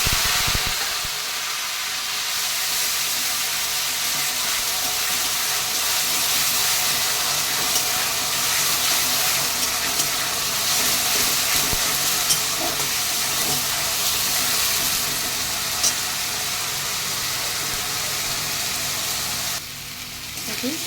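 Onions frying in oil with cardamom, cinnamon, bay leaf and cumin in a home chicken kosha pan, a steady close sizzling hiss that runs unbroken throughout.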